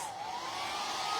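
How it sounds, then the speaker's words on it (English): A hair dryer blowing over freshly applied chalk paint on a craft piece, a loud steady whooshing roar with a high motor whine, close and continuous throughout with no talking. "I'm gonna hit it with a hairdryer just in case."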